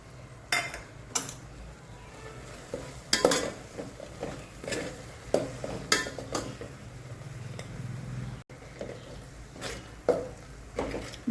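Masala for a mutton curry sautéed and stirred in oil in a pan, with a spatula clanking and scraping against metal in irregular close knocks over a soft steady sizzle, no voices.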